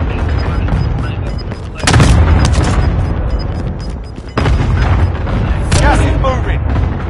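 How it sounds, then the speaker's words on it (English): Cluster strike explosions in a video game, a run of heavy booming blasts that hit in two loud waves with rumbling debris between them, under a voice that talks over the action. "Allied cluster strike inbound."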